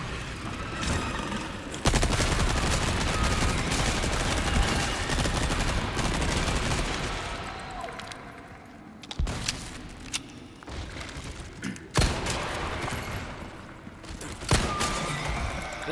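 Resident Evil 4 combat: bursts of rapid gunfire and booming blasts as an enemy explodes, loud, dense volleys giving way to scattered single shots and thuds, no talk over it.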